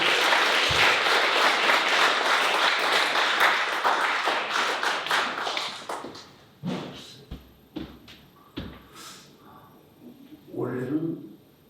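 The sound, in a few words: applause for a retiring pastor at a church service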